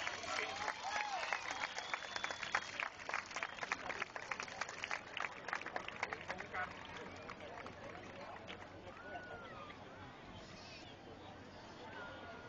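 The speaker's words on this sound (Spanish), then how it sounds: "Y los recibimos con el fortísimo aplauso de Maracay." Enthusiastic audience applause from a crowd in Maracay greeting a municipal show band, dense clapping with scattered cheers and crowd chatter that gradually thins out.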